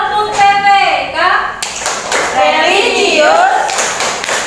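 Rhythmic clapping chant of the tepuk PPK routine in an Indonesian primary classroom, children clapping in quick patterned bursts while voices chant along, fairly loud and close.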